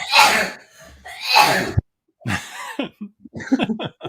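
A sharp sneeze bursts out, followed by a second one, then brief voiced sounds afterward.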